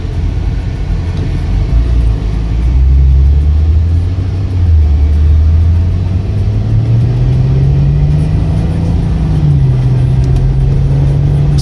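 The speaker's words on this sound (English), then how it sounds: "Okay, we're all set to take this Maserati for a little test drive" A 2017 Maserati Ghibli accelerates on a test drive, its engine note droning loud and steady from inside the cabin, rising in pitch through the gears with a brief dip at a shift, under constant road noise and no talk.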